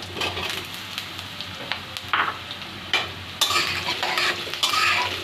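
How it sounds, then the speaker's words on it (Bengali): Onions and potatoes fry in a pan with garlic, salt and turmeric, a steady close sizzle broken by scraping stirs and clinks of a spatula against the pan. "আলুগুলো একটু লবণ আর হলুদ দিয়ে ভেজে নেব"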